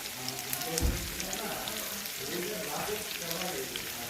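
Potatoes fry in a pan with a steady, dense crackle and sizzle, and one brief louder thump early on.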